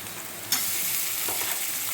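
Ginger garlic paste sizzles in hot oil alongside onions and broad beans, a steady close frying hiss with a sharp burst as it hits the pan and light stirring scrapes, no voices.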